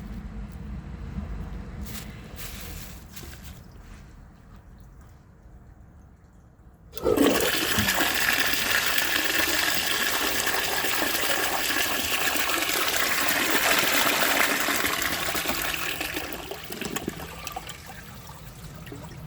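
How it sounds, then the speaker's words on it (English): A 1902 Fleck Bros. Victor toilet is flushed with a washcloth in a grocery bag, a loud sudden gush of rushing water about seven seconds in that roars steadily and then starts to taper, after quieter handling sounds. "I can fit my hand up the trapway of this toilet, so I'm pretty sure that a washcloth in a grocery bag is not going to be much of a challenge."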